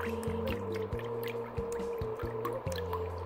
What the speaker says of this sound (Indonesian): Lepas tu tuang ke semua susu ke dalam periuk yang kita sediakan.